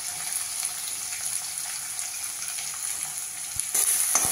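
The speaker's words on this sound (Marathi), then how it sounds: "त्यावर कांदाही घालते आहे" Onion sizzling in a pan with crushed garlic and green chilli while cooking amaranth greens; a steady, close frying hiss runs throughout, with a louder sputter near the end.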